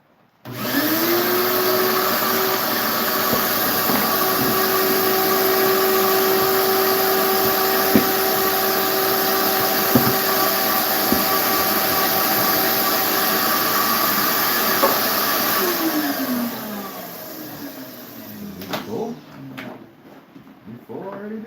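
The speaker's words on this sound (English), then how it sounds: "I'm gonna vacuum again" A shop vacuum cleaner runs loud and close in a workshop during cleanup, holding a steady whine for about fifteen seconds before winding down. Scattered clatter and knocks follow.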